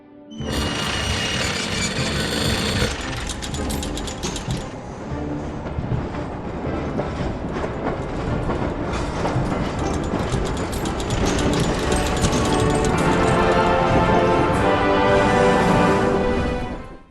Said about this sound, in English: Finally, when we've satisfied all of Oscar's requirements, the train can leave.